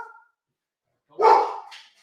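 A single sharp bark from a dog indoors, loud and close, following a brief faint sound.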